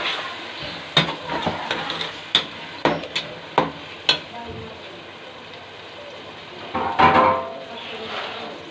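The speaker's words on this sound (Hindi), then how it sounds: "अब इसके अंदर हमने टमाटर का पेस्ट डालना है जो हमने बना के रखा था। और अच्छे से भून लेना है।" Tomato paste frying and being stirred in a pan, with a run of sharp utensil scrapes and knocks against the pan over a low steady sizzle and a louder clatter near the end.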